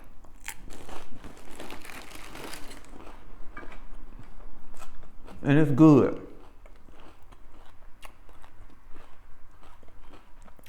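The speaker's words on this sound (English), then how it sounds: "the butter got your fat covered, and the radish and the cracker satisfies the crunch" Crunchy bites of a cracker topped with butter and radish, with dry crackling chews scattered through the clip beneath and between a person's speech, close to the mic.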